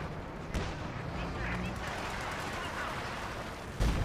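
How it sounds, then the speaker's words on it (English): Artillery fire in Company of Heroes 2 during a T-34 flank: a continuous rumbling barrage of gunfire, with sharp blasts near the start and a heavier boom at the end, and speech running over the top. "Duffman makes the top three with this amazing T-34 flank and artillery fire."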